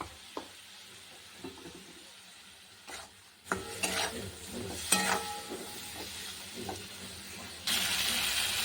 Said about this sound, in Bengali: একটু হালকা জল দিয়ে দিলাম